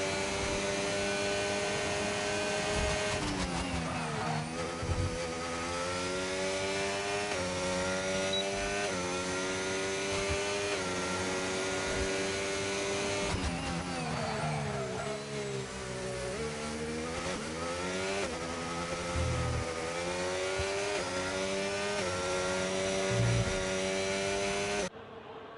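A Mercedes race car screams through a fast lap, its engine note climbing and dropping steadily as it shifts and brakes into corners, loud and continuous with no talking.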